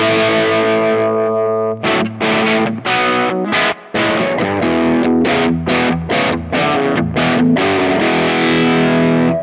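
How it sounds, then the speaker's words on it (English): Distorted electric guitar through a Kemper amp modeller preset, a sustained chord followed by loud choppy riffing with short gaps between stabs. "Here are a few of my favorite Kemper presets."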